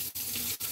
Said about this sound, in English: wash your hands again, why rinse that off